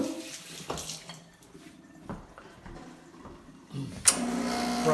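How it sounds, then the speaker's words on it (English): Water runs from the group head of a Rancilio Silvia espresso machine to rinse it, a steady hiss and splash that swells toward the end, close by with small clicks and handling noises. "Run a little bit of water out to clean the bottom part."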